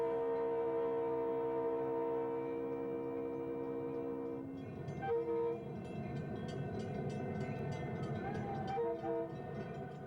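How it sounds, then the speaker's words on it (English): The Roaring Camp steam train sounds a sustained whistle, then rumbles along through redwood forest with rhythmic rolling clatter and a couple of short whistle toots, somewhat distant and soft. "Our train right now is really relaxing."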